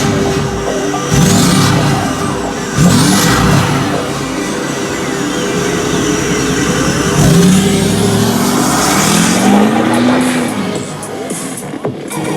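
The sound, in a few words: Ford F-250 6.4 Powerstroke diesel truck taking off, rolling coal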